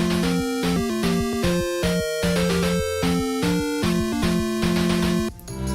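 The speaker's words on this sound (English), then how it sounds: "This is the Famicom Disk System intro." The 1986 Famicom Disk System console intro music plays on its own: a busy, bright chiptune melody of clipped square-wave notes over a steady bass line, loud and continuous for several seconds.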